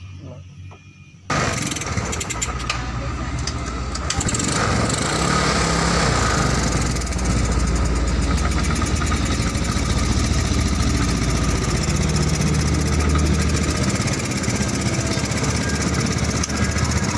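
A Yamaha Mio Sporty motorcycle engine starts and runs with a rough, uneven sputter, near and loud, holding a steady rattling drone throughout.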